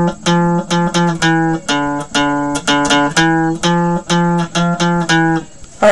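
Guitar plays the opening measure of a rock riff, a quick run of clear picked notes in a steady driving eighth-note rhythm, loud and close with no voices.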